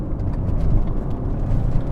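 A Peugeot 607 3.0 V6 engine revs with a deep, throaty growl that rises slightly, heard from inside the car with no talking.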